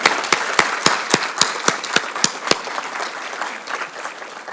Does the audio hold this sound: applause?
yes